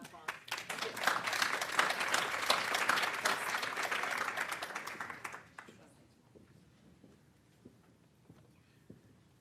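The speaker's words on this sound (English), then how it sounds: "let's give it a round of applause" A workshop audience gives a round of applause, steady, loud, dense clapping for about five seconds before it stops abruptly, leaving faint room noise and scattered light taps.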